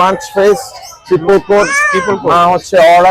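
A British Shorthair cat at a Mirpur pet market gives several loud, close meows in quick succession, mixed with people talking nearby.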